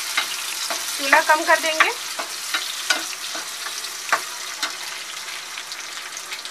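Mixed nuts and pistachios roast with cloves in a pan for kimami sewai, giving a light sizzle broken by scraping stirs and clinks of a spoon; a voice speaks briefly.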